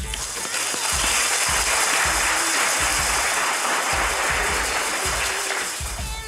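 Virtual cheering section applause at an awards event honoring a business, sustained dense clapping at steady volume throughout, with scattered louder claps and no talk over it.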